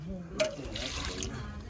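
Water from a tap splashing and pouring in a Pakistani village household, a short steady rush at close range under a voice.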